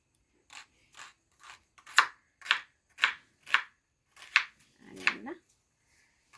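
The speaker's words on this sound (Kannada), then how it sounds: "ಈಗ ಅದಕ್ಕೊಂದು ಆನಿಯನ್ ಹೆಚ್ಚಿಸ್ತೀನಿ" An onion cut with a knife, a run of crisp, evenly spaced chops close up that grow slightly louder midway, with a short voice sound near the end.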